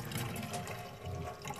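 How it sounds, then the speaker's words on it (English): Water flushes through a Mitsubishi Delica intercooler on a workbench during cleaning, giving a steady, close, continuous rushing and gurgling wash with no talk over it. "So I'm gonna flush it with water now"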